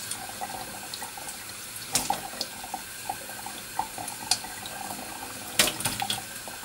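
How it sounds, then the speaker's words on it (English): Warm tap water runs into a sink as a pure badger bristle shaving brush is soaked, a steady faint stream punctuated by small splashes and a few sharper drips, with no talking. "I'm using a pure badger bristle shaving brush, and I'm saturating it with warm water to make it ready for creating lather."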